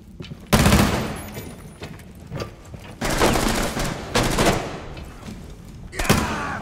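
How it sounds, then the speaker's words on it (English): Gunfire during a Rainbow Six Siege team deathmatch on the Hereford map, with loud, sharp bursts of automatic fire and single shots in separate volleys, some close and some farther off, across a tense firefight. "Is last one shooting at Jay?"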